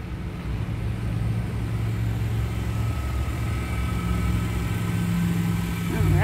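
A 2019 Nissan Qashqai SV FWD idles after a remote start, producing a steady, close, low engine rumble with a constant hum that runs unbroken through the whole stretch, with no talking.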